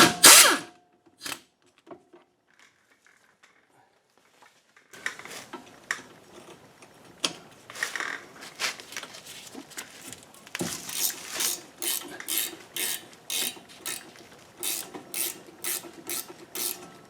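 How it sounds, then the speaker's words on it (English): Tools remove the two 13mm brake caliper bolts on a 1997 Audi A4. A sharp metallic clank and a quiet pause come first, then a long run of close, repeated ratcheting and wrenching bursts. "first step is to remove the caliper, which are 2 13mm bolts"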